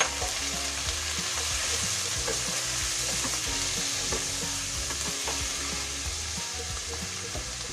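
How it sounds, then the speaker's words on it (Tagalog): Shrimp sizzle and fry in a hot pan, a steady close crackling hiss with occasional stirring scrapes throughout, no voices. "Lagay na po natin ang ating hipon."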